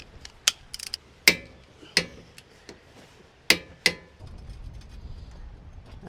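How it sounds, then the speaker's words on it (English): Torque wrench ratcheting on the axle nut of a Toyota/Lexus hub during a press-in wheel bearing replacement, a series of sharp metallic clicks in an uneven rhythm, close and crisp, followed by low handling noise. "you're going to torque this down to 217 foot-pounds"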